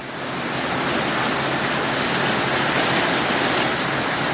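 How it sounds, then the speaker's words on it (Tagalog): Heavy rain with wind lashing down outside a terrace, a dense, loud and steady hiss of downpour that fills the whole span without a break, with no voices heard. "sobrang lakas ng ulan oh. Nagsama pang hangin"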